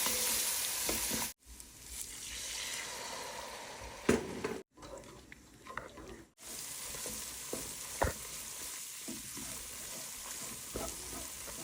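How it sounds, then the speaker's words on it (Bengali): Spice paste with ginger, garlic and salt frying in a pan, a steady close sizzle with stirring scrapes and occasional clinks, cut by several abrupt silent gaps. "মশলাটা আমি ভালো করে কষিয়ে নিচ্ছি"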